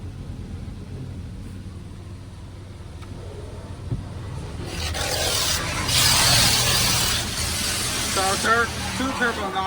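A Laserwash G5s touchless car wash sprays phosphate rinse over a car with a steady hiss and patter that swells midway over a low engine rumble. Voices talk faintly in the background.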